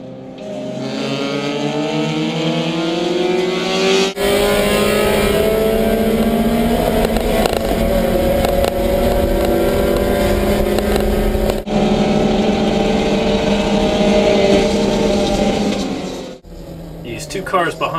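Recorded inside a Mini Cooper S race car during a NASA Mid-Atlantic race, the engine roars loudly and continuously, its pitch climbing and falling through gear changes, with brief cuts as it shifts and a voice talking over it.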